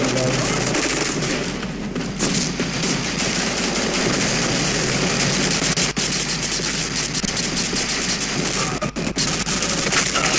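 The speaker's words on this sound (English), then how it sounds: "Oh, that's a minigun guy, that's a minigun guy" Sustained minigun fire in the shooter game Black Squad: a loud, dense, continuous rattle of rapid shots that runs almost unbroken for ten seconds, with brief dips and a few sharp cracks, while a voice talks faintly underneath.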